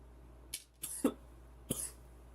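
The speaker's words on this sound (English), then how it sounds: "I don't know why I'm coughing so much." A man coughs several times in short, sharp bursts while working on game consoles, each cough close and brief with quiet pauses between.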